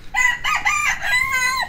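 Close, bright clucks and squawks from caged chickens in a quick burst, a few short calls running into a longer drawn-out one.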